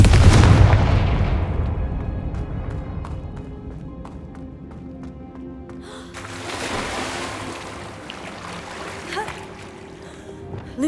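Booming Confringo blast spell explosions in the Hogwarts Legacy video game: a loud deep blast at the start fades into a rumbling tail, then a second crackling burst follows midway.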